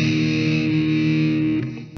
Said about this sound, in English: this time we're gonna do a four-string power chord.